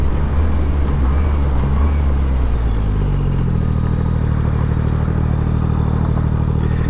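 A motorcycle brakes hard on the road, its engine roar and clatter winding down partway through to a lower, steadier drone, heard close and loud.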